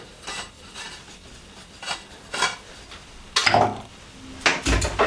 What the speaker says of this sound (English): So all I'm doing is just unscrewing one of the ends.